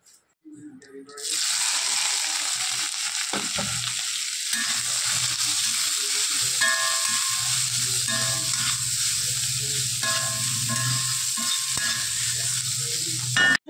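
Steady, loud sizzling of bitter gourd and fish frying in oil, with occasional scraping stirs and soft clinks, continuing without a break for most of the clip.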